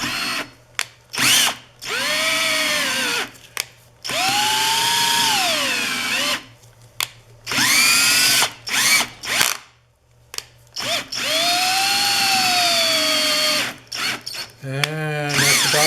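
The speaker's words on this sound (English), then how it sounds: "so that I could drive this thing up and down with my power drill" A handheld power drill turns the Y-axis leadscrew of an X2 mini mill through a Lovejoy coupler. Its motor whines in several sustained bursts with short pauses between them, and the pitch rises and falls as the speed changes.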